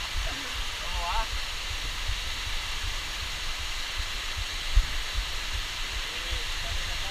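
A waterfall roars in a steady, loud broadband rush at a rappelling descent of the cascade, continuous throughout, with faint voices now and then beneath it.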